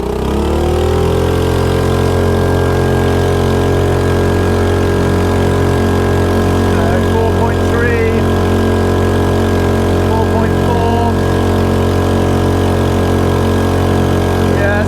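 A small 2.3hp petrol outboard engine on a tender runs steadily at high revs, a loud, constant buzzing drone with a slight wavering pitch, continuous throughout with no talk.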